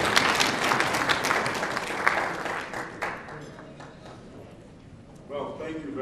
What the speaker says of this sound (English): Please give a round of applause to Danny Davis.